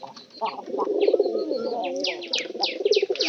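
Two domestic pigeons cooing close by, throaty rolling coos repeating over a few seconds with sharper chirpy notes mixed in, clear and fairly loud, no talking.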